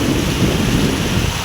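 Heavy monsoon rain pouring steadily over a flooded village pond and fields, a dense, loud, continuous wash of rain with no breaks and no voices.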